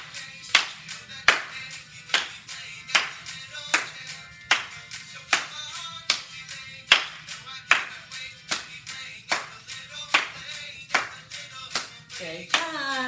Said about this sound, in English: Walk and clap to the music.